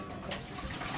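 A gallon of water pours into a vessel for mead making, a quiet steady splashing gush heard alone at low volume.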